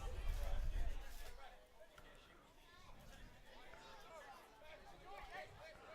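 Crowd chatter at a Sunday evening football match, a low babble of many voices spread through the stands, louder for the first second and then steady at a moderate, fairly distant level.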